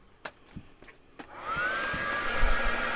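An electric dryer whirs up to a steady, loud blowing hum to dry primer on a mixed media art piece, preceded by a few soft taps and handling noises.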